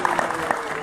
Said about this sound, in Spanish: un aplauso, que se oiga mi gente.